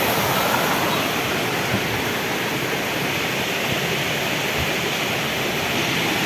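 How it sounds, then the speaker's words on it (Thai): A steady, dense roar of Mae Klang waterfall at Doi Inthanon, loud and close, continuing without a break and with no voices. "ตรงนี้ก็มีน้ำตกไหลลงมาเรื่อยๆ"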